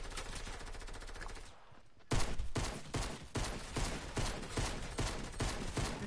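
A weapon in Fortnite fires in rapid automatic bursts, first a fast continuous rattle, then after a brief lull a series of loud, punchy volleys repeating at a steady rhythm.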